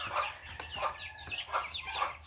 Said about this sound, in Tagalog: Kagaya nito, mga manok.